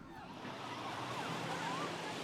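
Ocean surf washing onto a crowded beach, a continuous broad roar of waves with some wind noise and faint distant voices, steady and fairly close.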